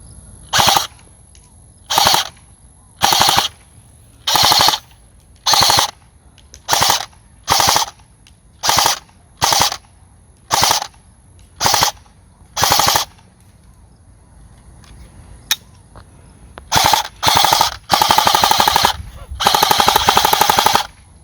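An E&L AK-74MN airsoft rifle fires about ten short, sharp bursts in a regular rhythm, then pauses before several longer, louder bursts, all close and crisp.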